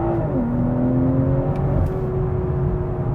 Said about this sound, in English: Hard on the brake and then flat on the accelerator.